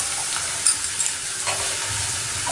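Paneer cubes fry in a hot pan with a little salt, a continuous bright sizzle with a few small spatula knocks and stirs, close and unaccompanied by speech.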